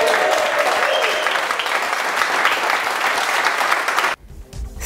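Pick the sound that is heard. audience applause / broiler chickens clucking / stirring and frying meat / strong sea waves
audience applause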